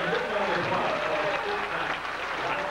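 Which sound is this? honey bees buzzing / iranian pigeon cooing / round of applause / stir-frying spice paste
round of applause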